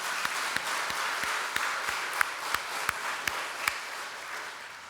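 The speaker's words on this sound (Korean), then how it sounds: "우리 스데반 집사 한번 박수 한번 쳐줍시다" A church congregation at a Sunday worship service claps together in a steady, evenly spaced rhythm over a soft wash of crowd applause, heard from some distance and quiet.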